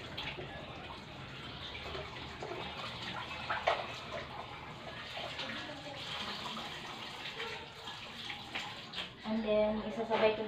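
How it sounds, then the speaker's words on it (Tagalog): Running tap water splashes steadily over milkfish and vegetables being washed for sinigang, a continuous close wash with brief clatters and a louder burst near the end, faint voices murmuring underneath. "Hugasan ko na lang para malinis."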